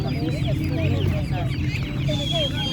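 Sasso chickens at a bird market, many birds clucking and squawking in overlapping bursts close by over a low crowd murmur, with people talking.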